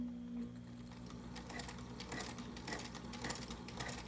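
A Singer Featherweight 221 sewing machine runs steadily through a long straight stitch, a continuous close mechanical whir with a low motor hum and a rapid needle patter, with no voices over it.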